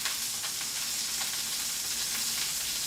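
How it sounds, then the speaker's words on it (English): Butter sizzles and foams in a hot pan alongside Chateaubriand beef tenderloin, a steady, dense, close frying hiss with faint crackles running throughout. "So I'm going to go in right now with all this butter."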